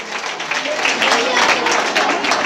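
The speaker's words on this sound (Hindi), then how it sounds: "और तालियां आप अपने लिए बजा लीजिए।" Audience clapping at a Gangaur festival gathering of a Marwari community association in Kolkata, a steady broadband patter of many hands over roughly two and a half seconds, moderately loud.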